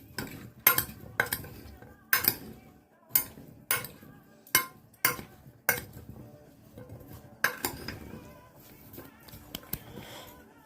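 Cutlery scraping and clinking against a bowl while mixing food seasoned with ground pepper and shashlik spice, a steady series of sharp knocks and scrapes, close and alone.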